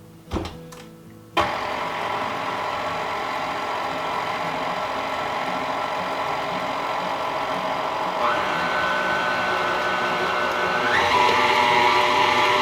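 An electric mixer whirs steadily as dry ingredients are blended into a peanut butter mixture, starting abruptly after a brief clatter, then shifting up in pitch twice as the speed increases, loud and continuous with no talking.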